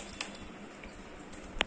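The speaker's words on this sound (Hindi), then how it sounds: "I am typing here." A few scattered key clicks on a computer keyboard, quiet and close, with irregular gaps between taps and a slightly sharper click near the end.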